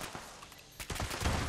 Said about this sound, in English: this is where you'll find the ghouls. And the ghouls are just kind of laying around like that, and you just kind of shoot at them